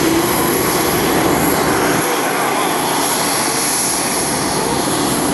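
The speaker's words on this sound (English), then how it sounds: "As the Super Hornet parks it, let's watch, see what they're going to do here." An F/A-18F Super Hornet's jet engines roar loudly and steadily as the fighter taxis to park at an air show, a continuous close whine and rumble that dips slightly in the low end midway.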